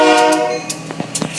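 Union Pacific train running along a city street, its horn blaring loudly at the start before fading, followed by rumbling and clanking of the cars as it passes.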